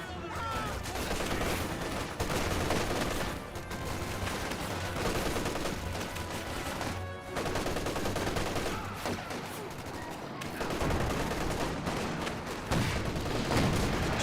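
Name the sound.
tank gunfire in the video game Company of Heroes 2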